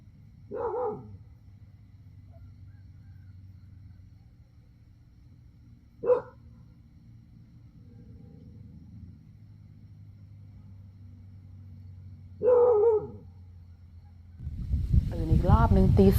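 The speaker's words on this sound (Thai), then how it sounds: "ตีสองต้องตื่นเพราะเสียงหมาเห่าหนึ่งรอบ" Three isolated dog barks at 2 a.m. at a tent campsite in Wang Nam Khiao, Thailand, spaced far apart over a low background hum, then a vehicle rumble rising at the end.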